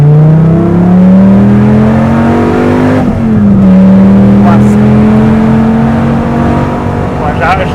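Dodge Viper SRT-10 engine revving loudly up close, a steady deep rumble that climbs in pitch, dips briefly, then rises again, with voices talking over it.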